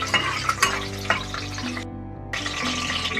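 Torn bay leaf roasting in a pan for pulao, a soft continuous sizzle with scraping and a few clinks of utensils, briefly dropping out before resuming.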